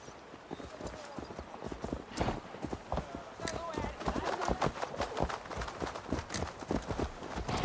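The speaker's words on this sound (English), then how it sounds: "Come on, grab your horses." Horses galloping in Assassin's Creed Valhalla, with dense, rapid clip-clop hoofbeats that stay steady and close for the whole stretch, and voices talking over them.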